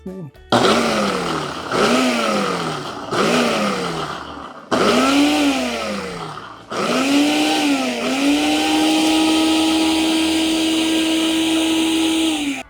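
A kitchen blender runs in short pulses, three quick whirring bursts and then two longer runs whose motor pitch climbs and settles into a loud steady whine.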